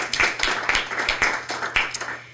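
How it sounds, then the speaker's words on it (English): A small audience at a school district board meeting gives a short round of applause. The clapping is light and fairly sparse, with distinct individual claps in an uneven rhythm over a low background hum. "So I'm going to give her a round of applause for myself."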